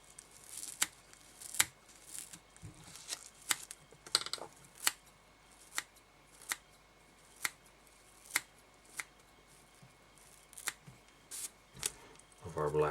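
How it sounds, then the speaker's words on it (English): Quiet, sharp snips of large straight hairdressing scissors cutting black hair while tying a salmon fly repeat at a loose, steady pace, about a dozen cuts in a row. "I'm going to take a large sort of straight hairdressing type scissors"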